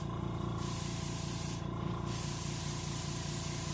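Aerosol spray paint hisses in long, steady bursts with a brief pause while painting a salmon model, over a constant low machine hum.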